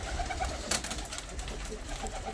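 Show pigeons coo steadily and close by, a soft continuous murmur lasting the whole short stretch, with no voices.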